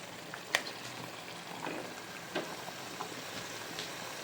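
Fish pieces sizzling quietly in hot oil in a pan for a coconut fish curry, a soft steady crackle with a few sharper pops, faint and alone.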